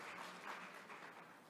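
Thin, modest applause from a small forum audience, steady and somewhat faint for a moment and a half with no voices.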